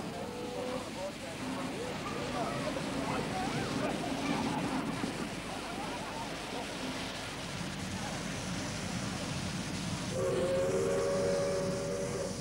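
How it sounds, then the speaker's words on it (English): Steam locomotives 621 and Flying Scotsman pull up side by side on broad and standard gauge tracks in South Australia. A continuous, dense rumbling wash builds steadily, and a sustained whistle sounds near the end. "The two engines pull up side by side to begin the parallel run."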